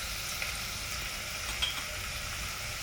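Trotters going into a hot pot with onion, whole spices, ginger, garlic and bay leaves, giving a soft continuous sizzle and crackle with a couple of faint pops, quiet and without talk.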